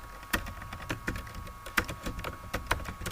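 Keys clatter on a computer keyboard while typing in MS Word, a steady run of close, crisp taps with a few louder strokes, and no voices.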